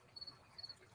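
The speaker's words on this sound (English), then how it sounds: "is it really picking up crickets? It really is." Crickets chirping faintly in two short, evenly spaced trilling bursts over a quiet background, with no talking.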